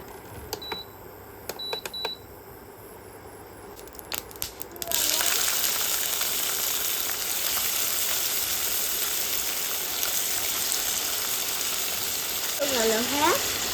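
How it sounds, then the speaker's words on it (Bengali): Fish in hot oil in a wok sets up a loud, steady sizzle that starts suddenly after a few quiet clinks and carries on unbroken, with a brief voice near the end. "ভেজে নেব।"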